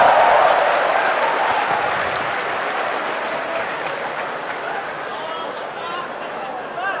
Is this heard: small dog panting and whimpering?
no